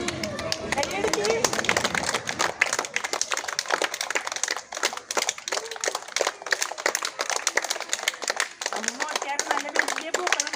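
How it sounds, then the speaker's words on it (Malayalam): Children clap their hands in a school classroom, a dense, lively patter of many hands that runs throughout at close range. "കൈയടിച്ച്."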